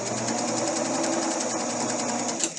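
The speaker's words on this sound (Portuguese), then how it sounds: "Se eu deixo por conta da máquina, olha aqui, ela costura" A domestic sewing machine stitching a fabric patch runs steadily at a constant whirring, rattling pace, close and continuous with no talking.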